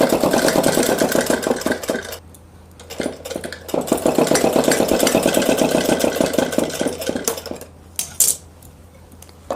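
Sewing machine stitching suit fabric along buckram, a rapid mechanical chatter in bursts separated by brief pauses, close and fairly loud.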